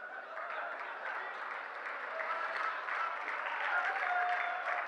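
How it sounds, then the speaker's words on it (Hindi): Subdued applause from an audience at a Hindi comedy poetry gathering, a soft, even patter of clapping that continues for several seconds without building into a loud ovation. "धीमी तालियां क्यों बजा रहे हैं?"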